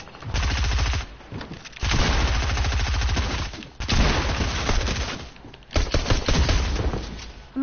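Repeated shotgun blasts and rattling gunfire in a video game fight, loud bursts in several long clusters separated by short gaps, close and dominant with no talking.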